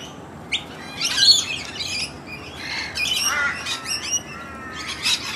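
A mixed flock of wild suburban birds in Australia, including noisy miners, gives repeated squawks and chirps at close to mid range, with overlapping calls over steady low background noise.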